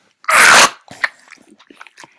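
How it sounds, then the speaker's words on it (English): A dog lets out one loud, close burst, a bark or snort, followed by softer snuffling and scattered small sounds. "And that was my dog."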